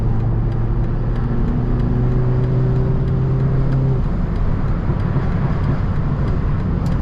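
A BMW 330i engine drones steadily while driving, a constant low hum with road noise and a tone that drops about halfway through.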